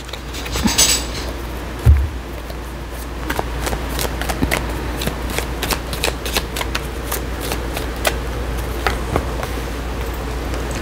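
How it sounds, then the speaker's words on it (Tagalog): A deck of tarot cards is shuffled by hand, a steady run of riffling, papery flicks with one heavier bump early on, close and fairly loud with no talk. "Ang hirap balasahin."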